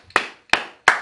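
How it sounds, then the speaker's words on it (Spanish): Three sharp, evenly spaced hand claps ring out close and loud in a church, each with a short decaying tail; no talk. "Denle un aplauso a Jesucristo."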